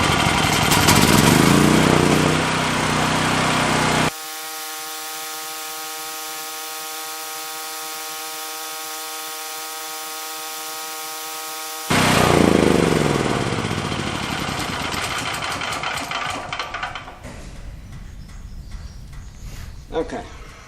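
A Westinghouse portable generator's small engine roars loudly, gives way for several seconds to a steady tonal hum, then returns rough and loud before settling and fading toward a quieter idle.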